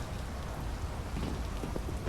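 Rain falling in a video game, a steady, fairly soft patter of drops with a hissing wash, continuous throughout with no voices.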